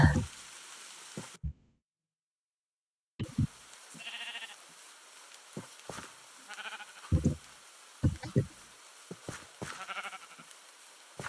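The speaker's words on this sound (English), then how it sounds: "Some more sheep." Sheep bleat in short, wavering calls at a distance, spread across the clip amid wind and handling noise, with a brief silent gap near the start.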